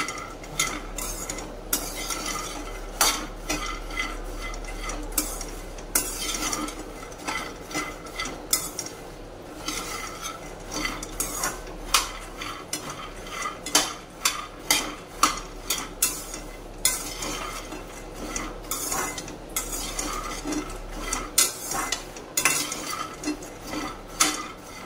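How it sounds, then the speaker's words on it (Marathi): Peanuts dry-roasting in a pan over a slow flame, stirred steadily: repeated scraping and rattling of nuts against the metal pan with a low background hum, close and fairly loud, no talking. "मी कधीचे शेंगदाणे भाजते स्लो फ्लेम वरती"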